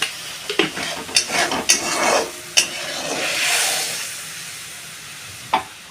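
Spice masala for a rohu fish curry sautéing in a pan with a little water and salt, a steady hiss and sizzle broken by several sharp clanks of a spoon stirring against the pan, no talk.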